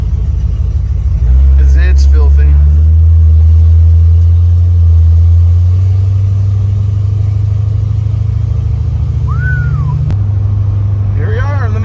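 A 1971 Dodge Charger on a test drive through town, its engine giving a steady low rumble throughout, with someone talking briefly over it.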